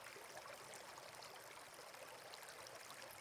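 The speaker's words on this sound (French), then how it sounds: "Le ruisseau murmure doucement" A gentle, steady murmur of a flowing stream, soft continuous trickling water with no other sounds.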